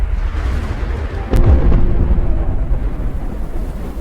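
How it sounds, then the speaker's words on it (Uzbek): A sudden loud thunderclap cracks and then rolls into a deep, sustained rumble over a steady background of rain, heard alone with no voices. "Keyin gulgula boshlagan momaqaldiroq va chaqmoqning chaqnashi eshitildi"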